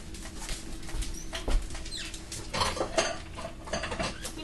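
A bowl being taken out among dishes, a series of close ceramic clinks, knocks and rattles of crockery over a few seconds, with faint bird cooing in the background.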